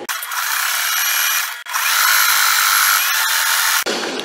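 A sewing machine stitching tote bag fabric runs in two loud, steady bursts of fast motor whir that break off briefly and then stop short near the end, with no talk.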